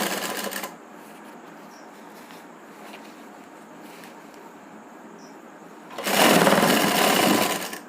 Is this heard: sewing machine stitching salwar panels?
yes